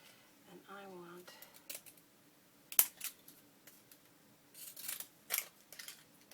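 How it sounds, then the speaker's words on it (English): Antique scissors snip paper in a few separate crisp cuts, close and quiet, scattered across a calm craft table scene with a brief voice early on. "I'm going to use my antique scissors"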